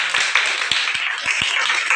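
A classroom of schoolchildren clapping their hands together, a dense, close patter of many overlapping claps over two seconds with a few sharper individual slaps standing out.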